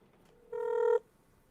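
A phone call gives a single electronic ring tone, a steady buzzy beep lasting about half a second, followed by quiet.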